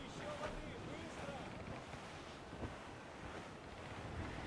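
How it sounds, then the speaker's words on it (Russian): Wind and sea waves from the Assassin's Creed IV Black Flag game form a steady, broad wash of surf and gusting air at sea, loud and continuous with faint swells throughout. "Ветер крепчает!"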